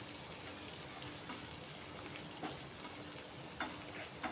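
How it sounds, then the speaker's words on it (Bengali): Onions frying in hot oil with a soft, constant crackling sizzle and occasional stirring clicks, heard faint and close. "পেঁয়াজগুলো এবারে ভালো করে ভেজে নিচ্ছি।"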